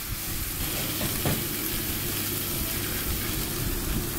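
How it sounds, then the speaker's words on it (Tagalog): Mushrooms sizzle and fry in a pan as they are stirred, a steady close crackle with occasional scraping strokes of the utensil and no talking. "Halu-haluin, halu-haluin lang natin hanggang sa"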